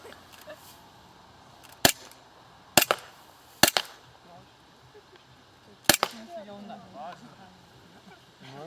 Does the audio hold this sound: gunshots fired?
yes